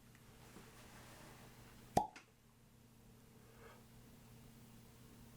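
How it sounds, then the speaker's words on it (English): A cork pulled from a Glenlivet Caribbean Reserve whisky bottle gives a single sharp, close pop, followed by a faint brief rattle, against a quiet room hum. "let's see what this cork gives us"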